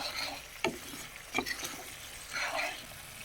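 Salt and chili powder being stirred into pabda fish pieces for a mustard fish curry: a few soft scraping strokes and light wet mixing sounds, fairly faint and close, with brief sizzling texture between strokes.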